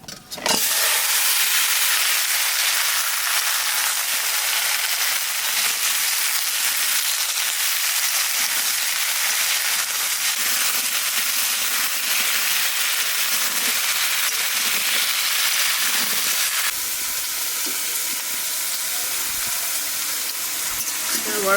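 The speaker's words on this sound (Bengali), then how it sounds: "এইবার কুমড়ো আলু কচু কাটা একটু ভাজিয়ে নেবো" Pumpkin, potato and taro pieces fry in hot oil in a pan, making a loud, dense, continuous sizzle that stays close and steady for the whole stretch and eases slightly near the end.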